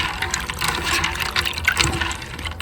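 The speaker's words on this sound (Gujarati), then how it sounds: "તો હે ને હું બી ધોઈ લઈએ" Seeds are washed in water by hand, producing close, continuous sloshing and splashing with uneven swells and no talking.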